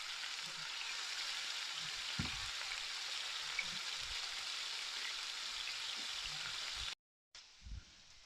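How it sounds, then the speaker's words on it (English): Three steaks sizzle steadily in a hot pan, a constant close frying hiss with occasional soft knocks beneath, breaking off briefly near the end before resuming more quietly. "We'll do 3 steaks at a time."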